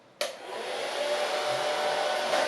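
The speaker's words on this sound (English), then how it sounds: "Can we power a hairdryer?" A hairdryer on its low setting, powered by an ALLPOWERS R600 solar power station, switches on abruptly and then blows with a steady, close whooshing hum.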